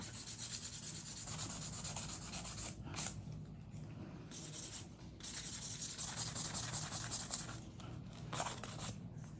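Buffing of acrylic nails coated in cover powder: a steady, close, dry rubbing hiss that runs almost continuously, with a few short pauses as the buffer lifts and then resumes its strokes.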